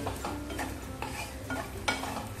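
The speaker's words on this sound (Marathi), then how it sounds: "सोबतच काजू आणि बदामाचे काप केलेले ते पण घालूया आणि चांगलं आता तुपामध्ये परतून घेऊया।" Sliced cashews and almonds being sautéed in ghee in a pan: a run of quick scraping stirring strokes over a light sizzle, close and fairly quiet, with one sharper scrape near the end.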